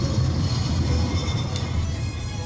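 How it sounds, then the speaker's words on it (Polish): A tram passing in the video game Syberia The World Before, a loud steady rumbling roll with metallic rail hum and a brief high squeal, continuous and near throughout. "To tylko tramwaj."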